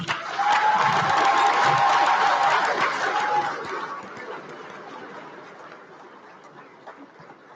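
Applause and cheering from an audience at a middle school eighth grade recognition night, loud for about three and a half seconds with crowd voices and whistles, then fading to murmuring chatter.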